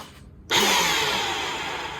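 After a brief silence, a Bissell CleanView bagless upright vacuum cleaner roars on abruptly, loud and harsh, and keeps running roughly with a grinding whine.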